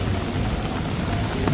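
Heavy monsoon rain falls at night on a Bangkok street during the rainy season, a dense, steady, loud roar of downpour with no voices.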